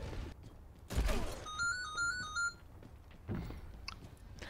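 A mobile phone ringtone plays a short repeating electronic melody, fairly faint, beneath chewing-like clicks and background noise during an Overwatch session.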